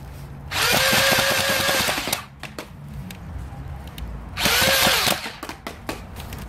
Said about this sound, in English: now for a firing demonstration of the, I don't know, call it the swarm bolt or some such thing